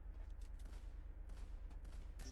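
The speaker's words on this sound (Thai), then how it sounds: "ยิงปืนยาวๆ" Rapid bursts of long-gun fire in Free Fire, repeated cracks in quick succession over a steady low rumble, fairly faint throughout.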